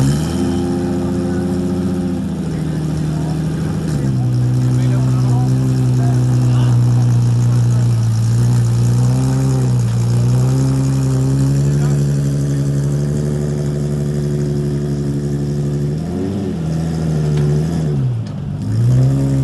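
A Honda NSX Type R engine idles with a steady, loud mid-pitched drone, then swells in a few short revs, the longest near the end, with no voices over it.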